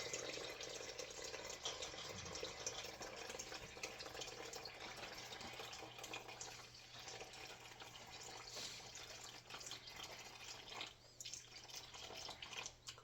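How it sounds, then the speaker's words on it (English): Room temperature water poured in a continuous, even stream into a bowl of bread dough mix, a steady close splashing trickle lasting throughout with a faint low hum behind it and no talking. "So we're going to add 720 grams of room temperature water."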